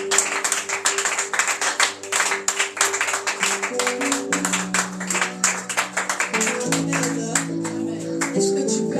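A church congregation stands to applaud and cheer for sister Ruth during a French-language service, with steady rhythmic clapping in time over sustained music and shouts from the crowd.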